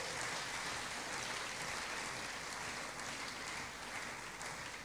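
A church congregation applauds together in steady, dense clapping that fills the whole stretch without a break, loud and close, with no voice standing out above it.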